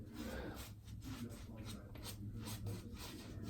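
A shaving brush whips Ariana and Evans soap into lather in rapid, rhythmic wet swishing strokes, close and quiet.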